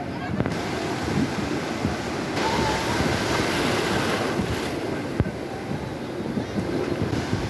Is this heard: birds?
no